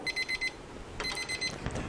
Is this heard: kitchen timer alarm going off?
yes